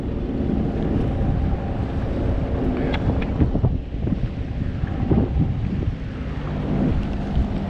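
Sea-Doo personal watercraft cruising slowly on the Niagara River: a steady, loud rush of engine drone, water and heavy wind buffeting across the microphone, continuous throughout with no speech.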